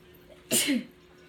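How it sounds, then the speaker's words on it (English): A single sharp sneeze bursts out close by against a quiet background. "I'm going to sneeze."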